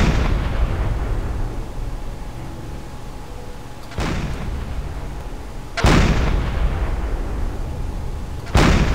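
A submarine deck gun fires high-explosive rounds in Silent Hunter 4, with four loud booming shots at irregular intervals. Each shot leaves a long rumbling decay, and there is no talk.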